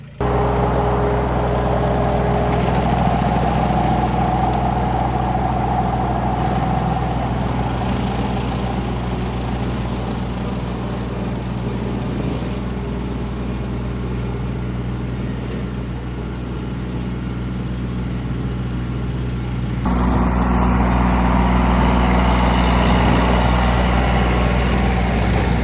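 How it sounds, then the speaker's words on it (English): A lawn mower engine runs steadily close by with a low, constant drone for the whole stretch, growing a little louder toward the end; nobody speaks. "I'm going to be mowing."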